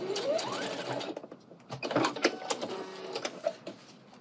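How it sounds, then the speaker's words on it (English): Sewing machine running short stitching bursts while basting pleats across the top of a garment, a close rapid mechanical whir that starts, stops and restarts unevenly. "I'm just gonna baste this in place across the top here so that we can hold this pleating together"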